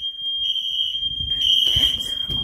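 A fire alarm system sounds during a test, a loud, steady high-pitched electronic tone that holds continuously, with faint rustling and handling noise rising underneath toward the end.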